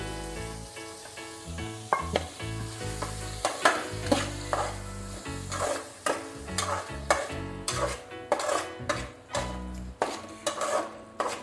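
Tomato paste sizzles as it fries for Nellore fish curry, with a spoon scraping and knocking against the pot in an uneven rhythm. The cooking is close and sounds alone, with no voices.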